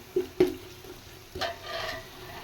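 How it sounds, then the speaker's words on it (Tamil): Onions and tomatoes sautéing in a pan for mutton dum biryani: a few sharp stirring scrapes over a soft, continuous sizzle, heard close. "இப்போ பாருங்கள் நான் ஆட் பண்ணியிருக்கேன் வெங்காயம் தக்காளி இது எல்லாமே நல்லா வந்துட்டு வதங்கி வரணும்"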